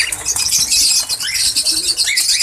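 Cockatiels and Fischer's lovebirds in a breeding aviary keep up a dense, loud chorus of shrill chirps and squawks, with many birds calling at once close by.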